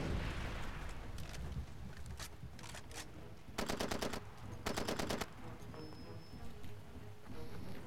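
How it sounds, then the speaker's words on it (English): Automatic weapons fire in the video game Far Cry 2: two rapid bursts of machine-gun shots, each lasting under a second, against a low background of scattered single shots and ambient game noise, heard at moderate volume. "They actually do come towards the sound of gunfire"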